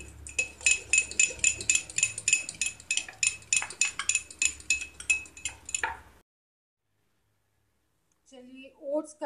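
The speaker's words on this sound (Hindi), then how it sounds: "अब इसको हम अच्छी तरह से मिक्स कर देंगे" A utensil beats cake batter with baking soda and baking powder in a bowl, producing rapid, rhythmic clinking strokes for about six seconds, then silence, and finally a short stretch of voice.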